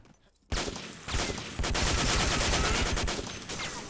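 Rapid gunfire in the video game Day of Defeat, a dense automatic burst that starts abruptly and keeps going loud and close for several seconds.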